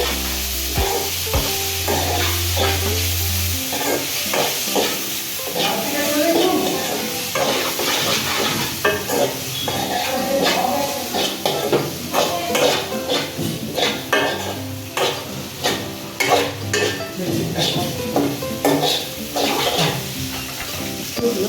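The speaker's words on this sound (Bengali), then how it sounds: "জিরাটা দিয়ে দিলাম, দিয়ে কিছুক্ষণ নাড়াচাড়া করলাম" Cumin seeds sizzle steadily as they fry in a pan for poha, with a utensil scraping and stirring through them in irregular bursts of clatter, close and fairly loud throughout.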